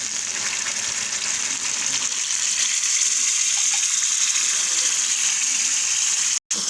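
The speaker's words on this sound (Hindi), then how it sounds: "अब डालने जा रही हूँ दाल। ये दाल मैंने पहले उबाली थी।" Pre-boiled lentils cooked with turmeric and salt are poured into a hot pan for an aubergine dal, giving a loud, steady hiss and gush of liquid that continues without a break, close up, with no voice over it.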